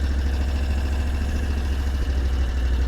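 Steady mid-pitched engine drone from an 8x8 amphibious ATV creeping into water, close and constant with no breaks.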